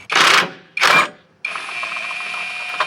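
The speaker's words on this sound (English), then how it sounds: "first time using a one of those universal sockets that does any standard like bolt size up to like 19 millimeters" A universal socket on a ratchet loosens bolts on a McLaren with two quick bursts of ratcheting, followed by a continuous whirring mechanical drone, close and clear.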